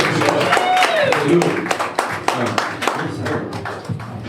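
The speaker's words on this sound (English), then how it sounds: "Go ahead and give them a round of applause." Scattered clapping and cheering from a crowd at a Juneteenth writing-session event, with a voice calling over it and a rising whoop near the start, loud and close throughout.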